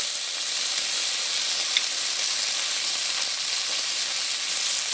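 Crab claws and pieces fry in a pan for a spicy pond-crab curry, giving a loud, even sizzling hiss that runs unbroken throughout with no talk over it.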